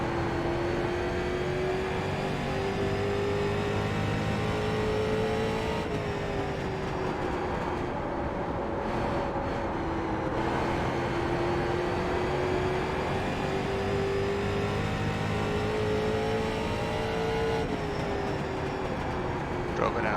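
A race car engine in the iRacing sim holds a steady high drone on track, pitch rising and dipping slightly with throttle and shifts, continuous and loud throughout.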